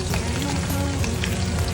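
Chopped aromatics crackle and sizzle in hot oil in a wok, a dense steady frying hiss heard up close without any voices.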